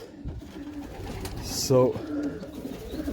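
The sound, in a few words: pigeons cooing in a loft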